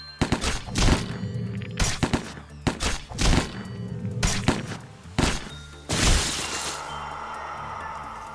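Gunfire in Lobotomy Corporation: a string of sharp, loud blasts and thuds in quick irregular bursts, followed by a sustained crashing burst near the end.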